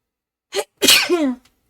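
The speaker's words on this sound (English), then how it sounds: "I feel like there's another sneeze." A single loud, close sneeze, preceded by a quick sharp breath, then quiet.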